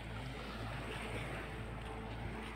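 A small outrigger boat at sea off Banton in the Philippines, with a steady, continuous wash of engine and water noise that holds even throughout, with no talk.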